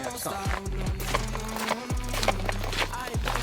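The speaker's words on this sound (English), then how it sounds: "his guitar bag, which sounds like there's a horse trotting" Rhythmic clip-clop knocking from a rattling guitar bag, like a horse trotting, repeating every half second or so under continuous nearby talk.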